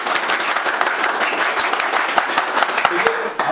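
A class of students applauding an electronics battery lesson, a dense run of hand claps that stays steady for several seconds, fairly close in the room.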